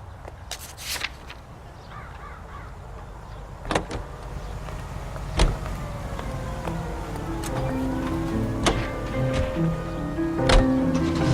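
A car driving in the video game L.A. Noire: a steady low engine hum runs throughout, broken by scattered sharp clicks and knocks, with no one talking.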